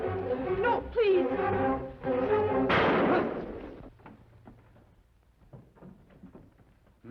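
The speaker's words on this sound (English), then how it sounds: "Why did you have to shoot him?" Gunshots in a western radio drama: a loud burst of impact-like bangs around the middle, preceded by tense dialogue, then fading to quieter scattered knocks and thumps.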